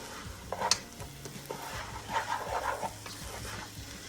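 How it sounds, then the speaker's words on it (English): A spoon stirs lentil soup with beans, cumin and chili powder in a pot, giving a few soft scrapes and wet swirls over a low, steady simmer. "Let's give that a stir."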